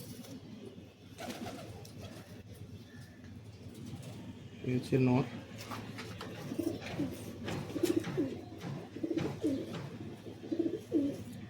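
A male ice-quality pigeon from Kanpur gives low, rolling coos close by, with a louder burst midway, under someone talking throughout.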